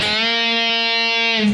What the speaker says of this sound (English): we're going to bend it up just between a half step and a full step